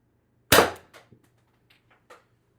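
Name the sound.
Mercury Rise Torpedo air rifle shot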